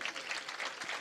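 An audience at a Jain religious discourse claps in a brisk, fairly quiet burst of applause, steady throughout with no speech on top.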